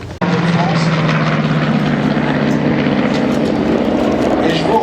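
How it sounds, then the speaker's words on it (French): A P-47 Thunderbolt fighter aircraft flying close and loud, a continuous droning propeller engine roar that starts abruptly and holds steady, with a voice talking faintly underneath. "Le chasseur long courrier, littéralement long courrier, le P-47 Thunderbolt."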